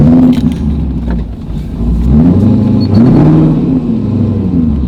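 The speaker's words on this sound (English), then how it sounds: "We're just sputtering into the gas station right now." A Lamborghini running out of fuel sputters along with a rough, uneven engine note that wavers and stumbles, loud and close, with no talking.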